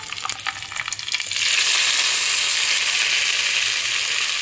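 Tempering for peanut chutney sizzles loudly in a hot pan, a steady hiss of frying that swells after a second of lighter crackling and then holds, with no talking.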